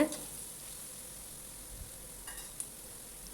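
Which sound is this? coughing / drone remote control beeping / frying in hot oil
frying in hot oil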